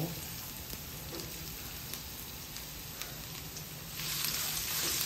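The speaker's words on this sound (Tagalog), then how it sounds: "gigisa na natin yan. Lagay tayo ng konting mantika." Garlic sautéing in a small amount of cooking oil gives a steady, close hiss of frying that swells louder over the final second, with no voices.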